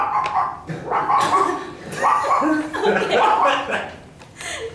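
A man imitates a small dog with his voice, giving a rapid run of yappy barks and yips, close and loud, with a little laughter mixed in.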